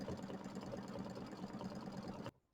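An embroidery machine sews satin stitches on a quilt block with a continuous, quiet, rapid mechanical chatter, steady throughout before cutting off abruptly near the end.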